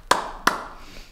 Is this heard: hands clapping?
yes